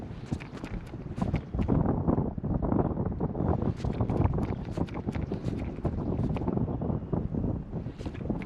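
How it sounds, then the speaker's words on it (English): Steady gusting wind buffets the microphone while fishing from a NuCanoe kayak in shallow water, a rough, fluctuating roar with rhythmic knocks and water slaps, close and continuous with no talk. "A little windy."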